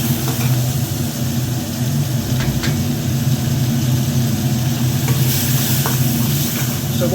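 A fired balti pan sizzling hard over a high flame, a loud continuous frying hiss with a low roaring burner underneath and occasional light stirring clicks, no voices.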